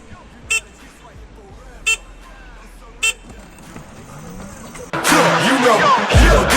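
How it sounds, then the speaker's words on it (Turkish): A car horn toots three short times at an even pace, followed by a rush of louder rumbling noise. "3 kere kornaya bassam kalkacaksın"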